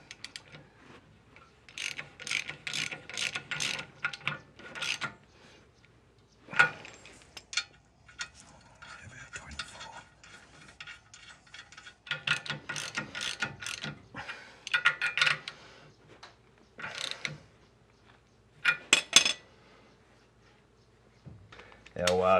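Ratchet clicking in bursts while tightening a ball joint nut on a Land Rover Discovery 2 front suspension, with the carrier jacked up into the taper; close, repeated ratcheting runs separated by pauses, with a voice talking at times.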